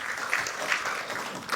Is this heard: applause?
yes